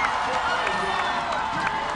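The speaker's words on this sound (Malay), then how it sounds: "Disambut dan juga diraikan oleh tepukan gemuruh dan juga lambaian jalur gemilang oleh rakyat yang berada di Dataran Merdeka." Crowd cheering and applause from spectators lining Dataran Merdeka in Kuala Lumpur during the 2016 National Day parade, a steady dense roar with scattered whoops and claps that fills the whole stretch.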